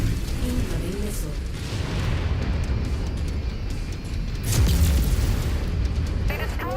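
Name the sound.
missile explosion in video game MechWarrior 5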